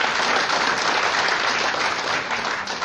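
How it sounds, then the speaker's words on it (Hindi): An audience applauds in a loud, dense, continuous round of clapping that holds steady throughout and eases only slightly at the close. "इनके लिए तो दिल्ली वाले ताली बजाइए"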